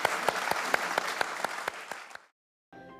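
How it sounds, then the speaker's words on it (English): An audience claps in a burst of applause with sharp, evenly spaced louder claps, cutting off abruptly into silence before a faint fragment resumes. "Give her a big round of applause"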